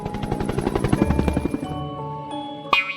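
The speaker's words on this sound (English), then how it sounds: "H is for helicopter." Rapid, rhythmic chopping of helicopter rotor blades, close and fairly loud, fading out near the end as a short tone sounds.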